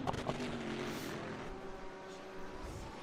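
A GT3 race car sweeps past in the rFactor 2 sim at Monza, a loud engine roar that swells early then eases as it fades, mixed with the player's own car noise.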